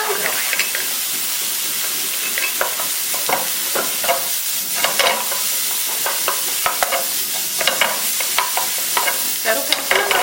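Bacon, onion, mushrooms and diced bell pepper stir-fried in a hot pan for a Spanish omelette: steady crackling sizzle broken by repeated scraping and tapping of a spatula against the pan, close up and free of talk.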